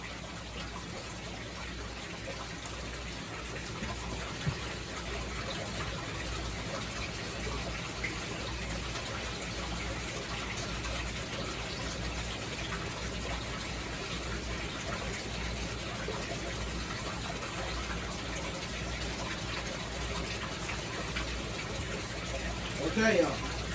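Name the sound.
fresh water filling aquarium tank with pump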